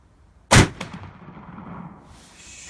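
A single loud gunshot from an old Austrian Rosler rifle fired at a 50-meter target. It is one sharp, close crack followed by a ringing tail that fades into quiet outdoor ambience.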